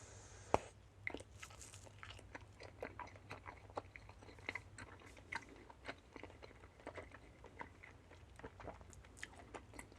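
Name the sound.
chewing firm candy gum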